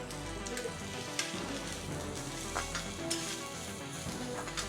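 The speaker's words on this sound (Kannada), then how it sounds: "ಸ್ವಲ್ಪ ಫ್ರೈ ಆಗಲಿ" Curry leaves and four green chillies sizzle steadily in hot oil for a tomato curry, a dense continuous frying hiss with occasional soft stirring scrapes and pops, close and even throughout.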